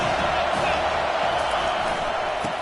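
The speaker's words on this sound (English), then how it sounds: "3rd down, and this crowd is tearing the lid off this place." A stadium crowd roaring on third down at a Florida State versus Penn State college football game, a steady loud wall of noise with scattered shouts and whoops throughout.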